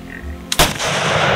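A single loud rifle shot during a buffalo hunt, a sharp close crack followed by a rolling echo, with no talk over it.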